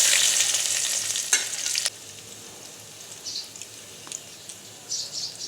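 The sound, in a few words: chopped onion frying in hot oil in a kadai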